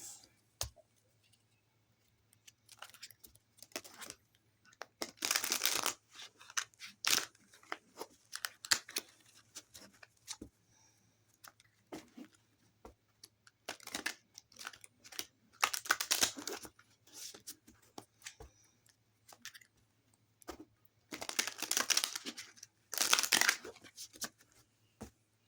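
Tarot cards are shuffled in bursts of crisp riffling and flicking, close and fairly quiet, separated by pauses with small taps and clicks.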